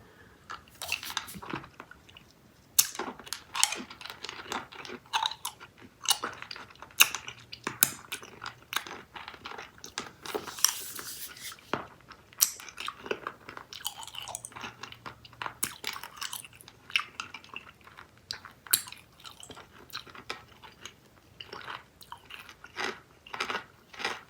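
Freeze-dried sour Skittles candy chewed close to the mic, dense crisp crunches and bites repeating irregularly for the full length with no talk.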